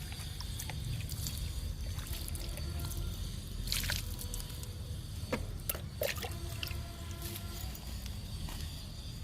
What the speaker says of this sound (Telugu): పాలకూర కూడా ఇస్తున్నా లిక్విడ్ని.